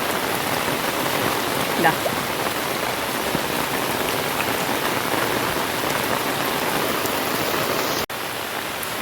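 Steady rain falls on a rainy evening, a dense, even hiss of drops close by that holds throughout, with a brief voice near the end.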